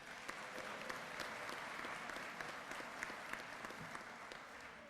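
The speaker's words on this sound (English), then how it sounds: "So let's give them a round of applause, please." A full round of applause from a crowd at the NYC Sanitation graduation and promotion ceremony, sustained and even, with individual sharp claps popping out of the steady wash; it sounds somewhat distant and quiet.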